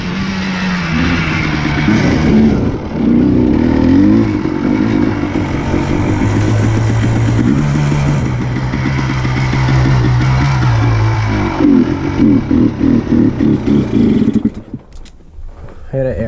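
A 1999 Yamaha Blaster 200 ATV engine revs loudly and close during wheelies, rising and falling in bursts of throttle with wind noise, then dropping to a rough idle near the end.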